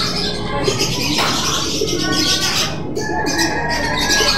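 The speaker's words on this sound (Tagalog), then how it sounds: "Awit na ng ibon." Pigeons coo and call amid a busy, noisy background in a pigeon loft, with soft throaty notes and a few sharper chirps layered over steady hiss.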